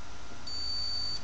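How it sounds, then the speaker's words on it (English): A multimeter continuity tester beeps as its probes bridge connected holes on a protoboard, giving one steady, faint high tone over a hissy background. "Okay, and you can hear that."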